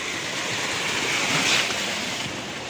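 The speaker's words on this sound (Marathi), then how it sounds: "आणि ह्या वाल्याचं पाणी पुन्हा इथंच खाली जातं।" Floodwater of the Bav river in Konkan pours over a weir during heavy monsoon rain, a steady broadband roar of rushing water that swells slightly midway, with no voices.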